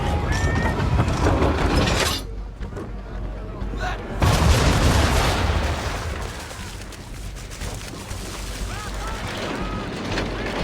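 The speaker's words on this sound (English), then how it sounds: "Bring around broadside, and when all guns are on target, call fire" A ship's broadside of cannons fires in Assassin's Creed III, a loud, dense barrage of booming blasts and crackling impacts layered over sustained rumble, with voices mixed in.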